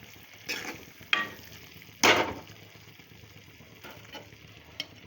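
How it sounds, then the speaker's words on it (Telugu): Gongura leaves tossed into a frying prawn curry, with a few scraping stirs and sizzling bursts over a low, steady background hiss; no talking. "ఇందులోకి గోంగూర వేస్తున్నాను"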